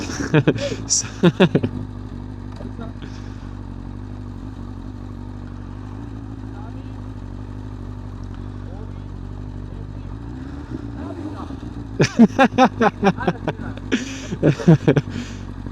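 A BMW S1000RR Gen 4 sport motorcycle rides with a low steady engine drone, broken by sharp loud bursts of revving or clattering pulses at the start and again near the end.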